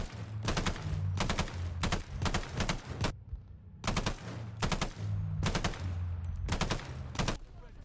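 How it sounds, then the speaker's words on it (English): Rapid bursts of KG M40 rifle fire from a video game, fitted with a Mercury Suppressor that leaves the shots unsuppressed, sound in loud, closely spaced volleys separated by short pauses. "after unlocking the Mercury Suppressor, I found out it doesn't even suppress the gunfire"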